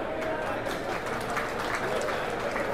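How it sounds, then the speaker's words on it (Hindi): Crowd applause welcoming guests at a public event in Jobat marking the start of a Jobat–Baroda train service, a dense, steady patter of clapping sustained throughout at moderate loudness. "तालियों से स्वागत करें मेहमानों का"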